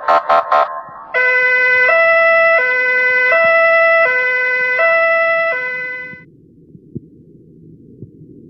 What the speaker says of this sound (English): Where is the ambulance?